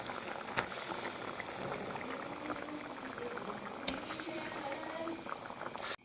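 A pot of fish curry bubbling at a steady boil as pieces of fish go in, a constant close gurgle and hiss with a couple of faint knocks and a sudden stop at the end.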